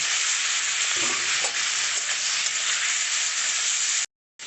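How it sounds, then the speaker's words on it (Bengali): Prawns coated in turmeric fry in hot oil in a kadai, giving a dense, steady sizzle that runs unbroken before cutting out abruptly near the end; no voices. "চিংড়ি মাছগুলোকে একটু ভেজে নিচ্ছি, হালকা করে একটুখানি ভেজে নেবো।"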